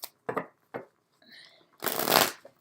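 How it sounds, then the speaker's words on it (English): A deck of tarot cards is shuffled in short, papery bursts: a few quick flutters, then one longer, louder riffling rush up close. "I know I keep shuffling the decks differently"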